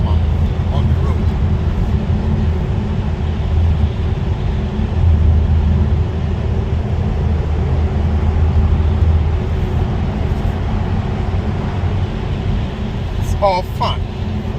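A BMW Z4 M40i engine growls steadily while the car is driven, a loud, continuous low rumble with road noise and a few brief higher chirps near the end.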